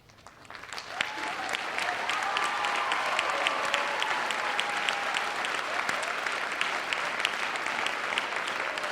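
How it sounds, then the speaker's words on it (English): A large crowd at a graduation commencement applauds steadily, the clapping swelling in quickly and holding a dense, even roar for several seconds. "receive a round of applause"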